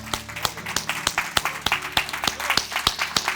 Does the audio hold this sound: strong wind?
no